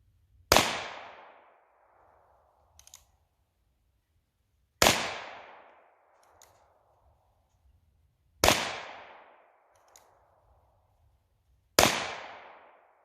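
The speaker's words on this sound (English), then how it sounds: "We'll start off with 5 rounds of 44 special at approximately 7 yards." Four loud, sharp gunshots ring out, spaced a few seconds apart, each with a fading echo. They come from a Virginian Dragoon .44 Magnum revolver firing .44 Special rounds at about seven yards.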